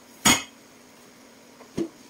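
Two metallic clanks of a pot lid, a sharp ringing one first and a softer one about a second and a half later, close by.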